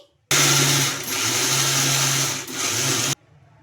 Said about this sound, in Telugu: ఇంకా ఇప్పుడు దీన్ని గ్రైండ్ చేసుకోవాలి